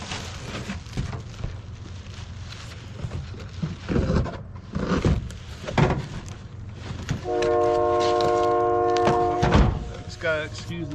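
Train passing nearby with low rumble and a blaring horn in the latter half, while someone talks over it.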